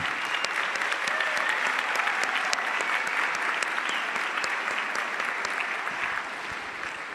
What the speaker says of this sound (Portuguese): Vocês chegaram até aqui e merecem nossos aplausos.